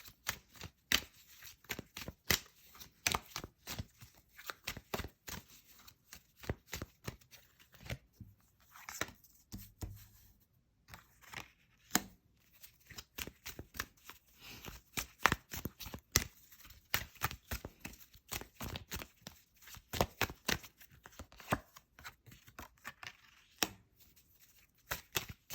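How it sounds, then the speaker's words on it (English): Close, quiet clicking and tapping as a dropped tarot deck is gathered up and handled, many brisk irregular card snaps and shuffles continuing throughout, with no one speaking. "The whole deck just fell."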